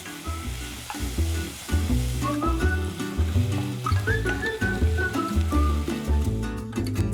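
Pork and kimchi filling seasoned with soy sauce and sugar sizzles and crackles steadily in a hot pan while being stirred and tossed, with scraping and clanking of a utensil throughout.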